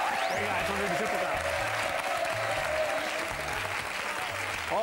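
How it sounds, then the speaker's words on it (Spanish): Studio audience on a Spanish TV quiz show applauds steadily and loudly throughout, with a voice talking over the clapping. "Un aplauso para ellos, muy bueno."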